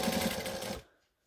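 A sewing machine stitches a quilted table runner in a brief, fast burst of whirring needle strokes, close up, then stops abruptly into silence.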